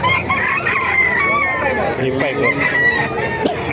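A rooster crows over continuous clucking and chatter from a crowd of chickens at a poultry market in Bocaue, Bulacan, with a person speaking briefly near the end.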